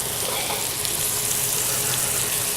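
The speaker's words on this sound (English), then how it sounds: "The rice is coming to a boil." A pot of rice coming to a boil gives a steady, dense bubbling hiss, even and continuous throughout with no voices.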